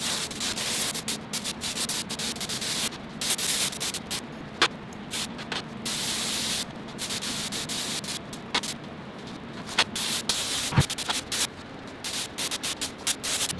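A spray gun lays primer onto car panels of a Subaru EZ30R turbo-swapped Porsche, producing a steady close hiss broken by brief clicks and gaps as the trigger is worked, with no one talking.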